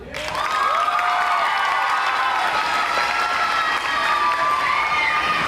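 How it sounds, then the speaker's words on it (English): Sustained applause and cheering fill the room for a pageant contestant at the Miss Cardinal City Pageant, a dense wash of clapping that stays loud and steady for several seconds. "welcome contestant number 1 with a big round of applause"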